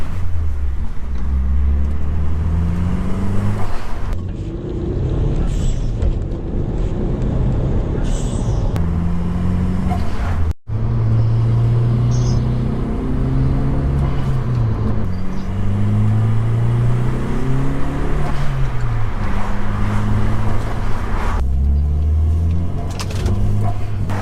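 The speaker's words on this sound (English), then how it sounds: "I just love the sound of this car." A car engine on the move, rising and falling through repeated revs and gear changes, loud and close inside the vehicle, with no speech over it.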